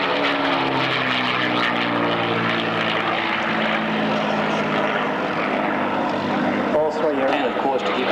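A roughly 50-year-old post-WWII propeller ground attack aircraft with highly polished metal roars past at the Avalon airshow, a loud continuous engine drone that shifts in pitch as it passes, with an announcer talking over it.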